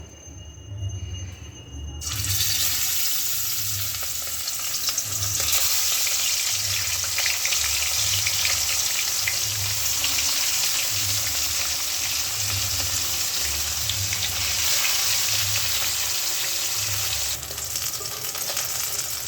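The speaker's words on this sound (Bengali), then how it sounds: "এবার মাছগুলো ভেজে নেবো" Pieces of rohu fish fry in hot oil in a wok, giving a steady, loud sizzle with a low rhythmic bubbling pulse that runs almost the whole time, beginning abruptly after a short quieter lead-in and with no talking.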